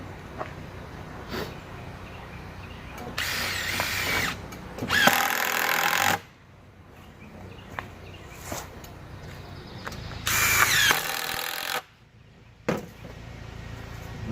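A power drill drives screws into the frame of a DIY firehose dog bed, with several loud whirring bursts of a few seconds each, close by, separated by quieter handling pauses; no talking.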